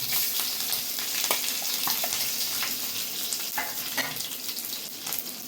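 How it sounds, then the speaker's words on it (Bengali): Dried red chillies and curry leaves fry in hot oil, giving a steady loud sizzle with scattered sharp crackles and pops throughout, with no talk. "শুকনো লঙ্কা কারি পাতা একসঙ্গে দিলাম। খুব সাবধানে এটা দেবে তোমরা বন্ধুরা, কারি পাতা খুব ফাটে।"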